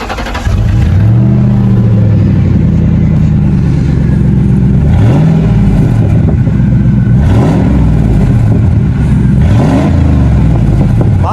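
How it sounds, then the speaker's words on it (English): Car engine with a head gasket repaired using JB Weld, revved in repeated moderate bursts that rise and fall over a steady loud idle, close by with no talking. "I just rev it."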